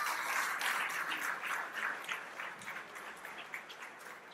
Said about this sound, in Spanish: le debemos dar también un fuerte aplauso a los amigos de Zamora